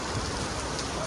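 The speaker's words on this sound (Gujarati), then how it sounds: "તો ભાઈ વરસાદ છે" Rain pours onto a wedding mandap, a dense, steady patter and hiss of drops striking the canopy and surfaces nearby, with no talk over it.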